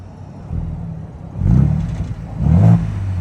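A Ford Bronco Raptor's exhaust in Baja off-road mode blips twice in quick succession, each rev a deep, throaty surge from a low idle, heard close and alone.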